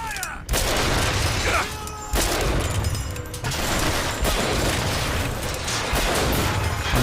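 Heavy gunfire in the shooter game Bioshock Infinite, loud and close, with dense overlapping bursts and shots that continue almost without pause and break off briefly a few times.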